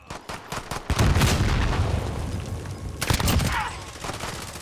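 Gunfire from the video game Warzone, with dense rapid shots and bursts crackling over a steady loud bed of game noise, close and busy throughout, including a cluster of sharp reports near the end.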